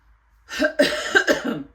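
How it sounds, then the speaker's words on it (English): A few harsh, wet coughs from a person with COVID-19, in quick succession, close and fairly loud, after a brief quiet moment. "I'm coughing and wheezing"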